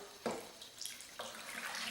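Beef stock is poured into a roux for Philly cheesesteak mac and cheese: a soft, close liquid splashing and trickling in short gushes, with no talk.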